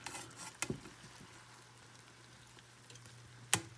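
Scallops flipped in a hot pan for a cheesy seafood bake, a soft continuous sizzle broken by two sharp clatters of the flip, quiet and close, with no voices.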